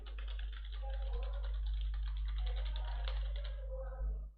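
Keys clatter steadily on a computer keyboard during a computer class, a continuous run of close typing over a low electrical hum, with faint speech in the background.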